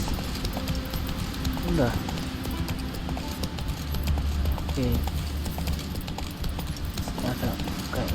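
Roach the horse's hooves clip-clop in The Witcher 3: Wild Hunt, a steady rhythmic trot of muffled hoofbeats under game music, with someone talking over it.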